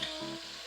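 Pork butt sizzles and fries steadily in an Instant Pot on the saute setting, a close, continuous crackle with no talk over it.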